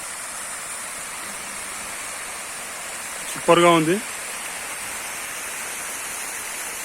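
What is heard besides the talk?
water fountain splashing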